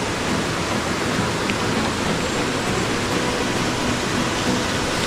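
Kanawan falls pours in a dense, even roar of rushing water, loud and constant for several seconds with no breaks and no voices.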